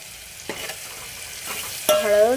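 A spiced mixture with turmeric, tomato and salt fries in a pan, a soft steady sizzle with a few spoon scrapes, followed by a brief higher tonal sound near the end.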